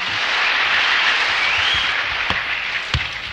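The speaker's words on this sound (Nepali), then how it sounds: "कृपया जोरसँग ताली बजाइदिनुहोस्" An audience at the final of a Nepali national riddle competition applauds loudly, a steady broad wash of many hands clapping that fades slightly toward the end, with a couple of sharp knocks near the close.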